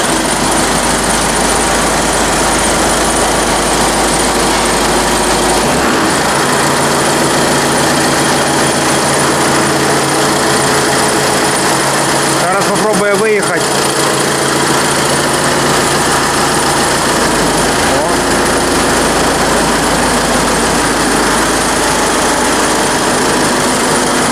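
A Claas combine harvester engine after a clutch release-bearing repair runs steadily, a loud high-pitched idle with a low rumble that drops out early, alone without voices.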